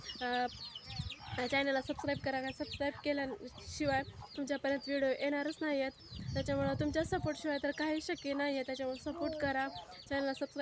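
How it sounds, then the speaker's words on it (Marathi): Chickens and small chicks cluck and chirp in a village yard, fairly close and steady, heard beneath someone talking continuously throughout. "कोंबड्याची पिल्ली आहेत छोटे छोटे त्यांचा वगैरे आवाज येतच असेल"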